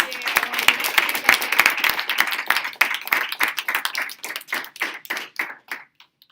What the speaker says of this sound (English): can we all just give a big round of applause and thank you.